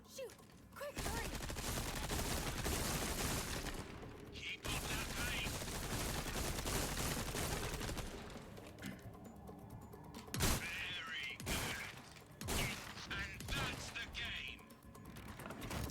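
Heavy gunfire fills the Resident Evil 4 Remake action, with dense bursts and sharp single shots, loud and continuous for long stretches with brief gaps and occasional crashes.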